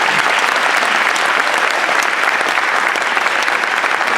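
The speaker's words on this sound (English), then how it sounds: "A round of applause for this" Applause at a high school graduation ceremony: a dense, loud, steady crowd of clapping hands filling the hall without pause.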